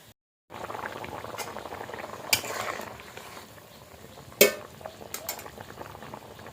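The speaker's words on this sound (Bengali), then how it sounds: "দেখো বন্ধুরা ডিমের ঝোলটা ফুটে উঠেছে" Thin egg curry boils in a pot over a dung-cake fire, giving a steady, close bubbling hiss throughout, broken by a couple of sharp metallic clinks.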